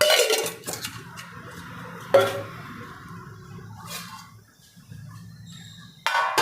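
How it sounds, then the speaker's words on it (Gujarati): Oil being spread around a metal thali plate while making Kathiyawadi dhokli, heard as close clinks and scrapes of metal against metal in several separate bursts with quieter rubbing between them. "થારીમાં બધી બાજુ લગાવી દેવાનું તેલ"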